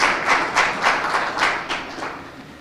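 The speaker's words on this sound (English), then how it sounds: "Another applause. Better one." An audience at a Ministry of Health World Contraception Day forum applauds a storytelling presentation, steady clapping with a few swelling bursts over about two and a half seconds, fairly close and moderately loud.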